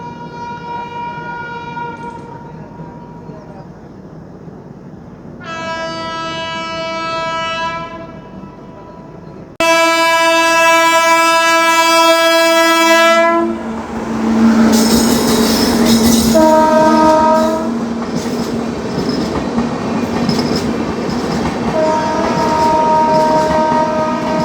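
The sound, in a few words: Secunderabad Duronto Express train overtaking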